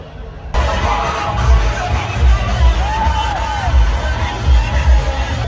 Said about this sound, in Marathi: मोकार गर्दी आहे भाऊ